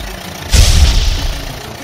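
A tractor engine starts up with a sudden low rumbling burst, then settles into a steady close idle that fades slightly toward the end.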